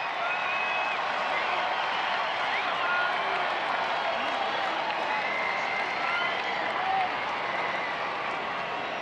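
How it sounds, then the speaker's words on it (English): A baseball stadium crowd roars steadily at a Marlins–Angels game, a broad, sustained wash of cheering and applause that holds at an even level throughout without pause. "Crowd starting to make some noise here."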